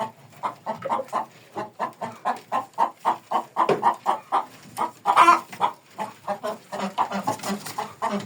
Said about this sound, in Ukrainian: Яка курочка